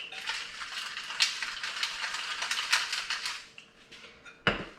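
Seasoned potatoes tossed in a bowl with seasoning salt and fresh cracked pepper, giving a quiet, busy rattle and scrape of pieces tumbling against the bowl, then a short pause and one sharper clack at the end.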